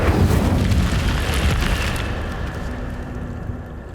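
An Incendio fire spell cast in a video game bursts out as a loud, roaring whoosh that sustains for a couple of seconds and then fades away, with no talking over it.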